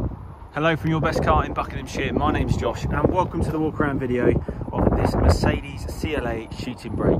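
Someone talks steadily outdoors beside a CLA Shooting Brake car while gusty wind buffets the microphone, adding low rumbling roar beneath his voice throughout.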